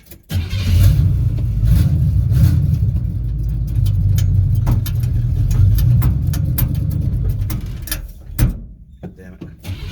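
A Chevrolet C1500 shortbed pickup truck engine cranks, catches and runs with a steady rumbling idle that briefly revs near the end, loud and close throughout, with a voice occasionally audible.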